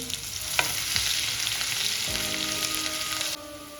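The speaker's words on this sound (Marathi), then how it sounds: "कढईमध्ये पाच ते सहा चम्मच ऑइल टाकलेला आहे आता आपलं ऑइल छान गरम झालेलं आहे आता यामध्ये आपल्याला कांदा ॲड करायचा आहे" Onions hit hot oil in a kadai and fry with a bright, close sizzle and a few stirring scrapes, before the hiss suddenly drops quieter near the end.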